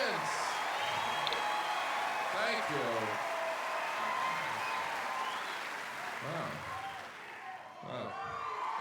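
An audience claps in a steady, sustained round of applause with a few scattered whoops, while someone talks over it from close by.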